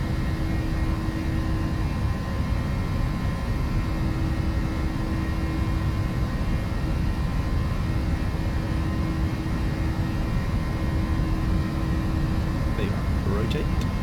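Airliner engines hold takeoff thrust during the takeoff roll, a loud, steady roar with a constant whine, heard from the cockpit as crew voices call out over it.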